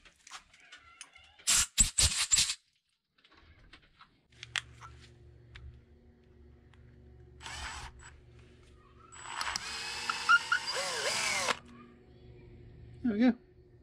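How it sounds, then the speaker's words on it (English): A power drill boring out a seized bleed nipple on a Suzuki GS850 rear brake caliper in a workshop, heard as two short whirring bursts, the second longer and rising in pitch, separated by quiet handling noises and a low background hum. "Giving up and we're just going to drill it out."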